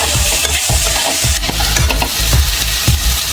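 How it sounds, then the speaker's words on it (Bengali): Two tomatoes tossed into reddish fried onions in a pan, with loud continuous sizzling and the repeated scrape of a spoon stirring, close up and without voices. "পেঁয়াজ সুন্দর করে ভাজা হয়ে গেছে লাল লাল করে, এবার টমেটোগুলো দিয়ে দিই।"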